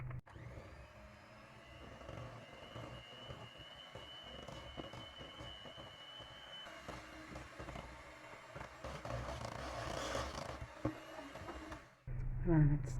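An electric mixer whirs steadily and moderately close as it whisks cream for a chocolate yule log, the motor tone wavering slightly and growing a bit louder near the end before a clunk; a voice speaks over it.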